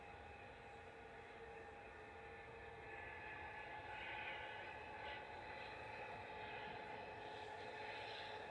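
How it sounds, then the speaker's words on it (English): A Brussels Airlines Airbus A319 touches down at Manchester Airport, a faint, distant, steady jet engine rumble and whine that swells slightly midway, with no talk over it. "We've got a little Brussels sprout touching down now, coming in from Brussels with flight 2173, A319"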